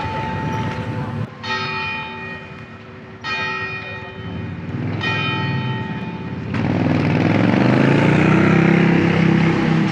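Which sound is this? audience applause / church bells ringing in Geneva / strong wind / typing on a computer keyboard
church bells ringing in Geneva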